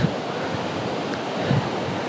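Sea waves wash onto the shore in a steady roar, mixed with wind buffeting the microphone, loud and continuous.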